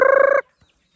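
A single loud, close chicken call, a brief harsh squawking note lasting under half a second, followed by near silence.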